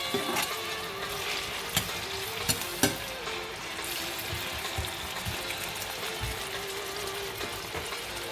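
Coconut fried rice fries steadily in a pan with a constant broad sizzle, close and moderate, broken by a few sharp clinks of a utensil against the pan near the start, no talking.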